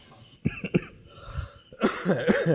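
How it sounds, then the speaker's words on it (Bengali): A person coughs indoors at night, with a couple of short harsh coughs early, then a longer throaty burst of coughing and throat clearing near the end. "কাশছি আমি"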